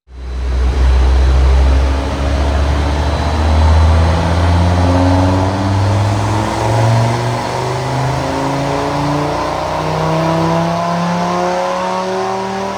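A tuned car engine with a decat and OPF bypass revs hard and loud close by, its throaty exhaust roaring through rising, surging pitches as it winds up repeatedly.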